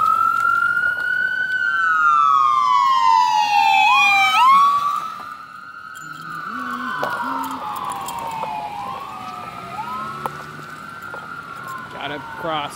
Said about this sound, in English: Oh god, here comes the ambulance.